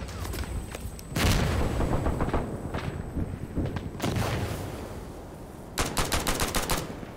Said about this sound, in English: Grenade near me.